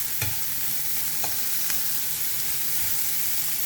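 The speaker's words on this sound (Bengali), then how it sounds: "ভর্তা বানানোর জন্য আমি কাঁচামরিচ, রসুন আর পেঁয়াজ সরিষার তেল দিয়ে ভেজে নিব" Green chilies, garlic and onion fry in mustard oil with a steady broadband sizzle and a few soft scraping stirs, close and continuous with no talk.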